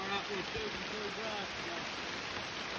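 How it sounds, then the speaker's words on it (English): Heavy rain pouring down outdoors during a nighttime frog hunt, a steady dense hiss of falling water throughout, with faint voices underneath. "Okay, now it's a downpour"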